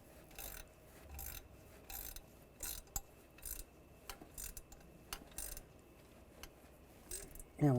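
A hand ratchet tightens a thermostat housing bolt on a Buick Enclave, sounding as short, quiet bursts of rapid clicking with pauses between strokes, close up in a mostly quiet space.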